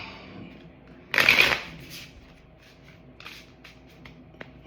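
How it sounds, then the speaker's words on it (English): Tarot cards shuffled in one quick, crisp riffle burst near the microphone, followed by soft handling rustles in an otherwise quiet room. "Why don't we one more shuffle and we'll get going."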